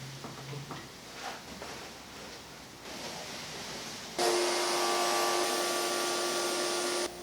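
Wood router cutting a slot into a wooden plank, a loud steady high-pitched whine with bright tonal harmonics starting abruptly and running continuously after quieter shop rustling and handling noises.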